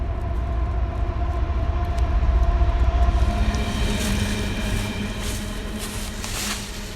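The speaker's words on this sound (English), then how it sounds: "Oh, that was a long train today." A long train rolls past on railroad tracks, a continuous rumbling clatter of wheels and cars that swells and stays loud at close range, with no talk over it.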